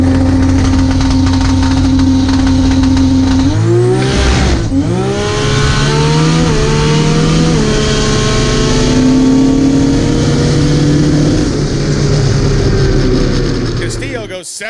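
An 1800-horsepower Toyota Supra drag car makes a full-throttle run, its engine roaring loud and close with a sharp dip and shifts in pitch as it climbs through the gears, while a voice talks faintly beneath.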